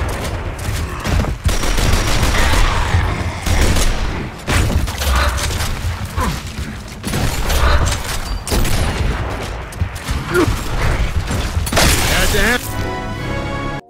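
Rapid gunfire and bursts from Gears of War competitive multiplayer, dense and loud with repeated cracks and booms across the stretch, a voice talking over much of it.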